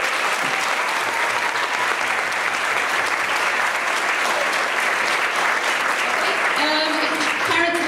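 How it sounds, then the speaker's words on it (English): Audience applause after a Year 5 children's music performance at a school celebration, a loud, sustained clapping from a full room that stays even throughout. "So let's give them another round of applause."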